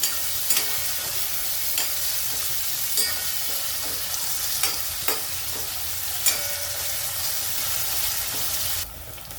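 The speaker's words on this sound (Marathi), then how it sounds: "आता आपण टोमॅटो टाकून घेऊ। आता याला पण चांगलं परतून घेऊ।" Onion and tomato sauté in oil in a pan for broccoli bhaji, a continuous close sizzle broken by periodic clicks and scrapes of a stirring spoon, steady and fairly loud, with the sound dropping abruptly near the end and no talking.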